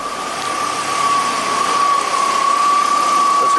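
A 1991 Audi 200 Quattro engine idles steadily at close range, a constant hum topped by a thin, high whine, with no voices.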